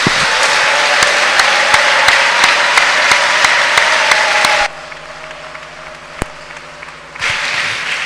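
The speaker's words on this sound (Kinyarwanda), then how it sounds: "Dukomere Imana amashyi tuyishime." Congregation applause at a church service, a dense steady clapping from a crowd that cuts off abruptly partway through, leaving a quieter room tone with a few scattered claps before the sound returns.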